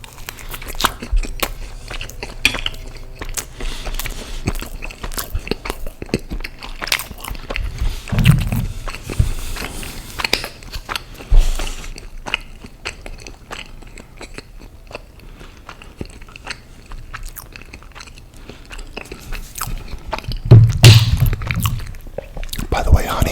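Chocolate chip pancakes eaten up close in an ASMR mukbang breakfast, with soft, steady chewing and mouth sounds throughout and a few louder, crunchier bites, one near the start and another toward the end.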